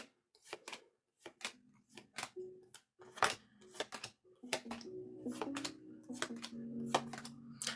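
Tarot cards being shuffled by hand, a series of crisp riffling bursts and soft flicks in a quiet room, close and intermittent with short pauses, growing denser toward the end.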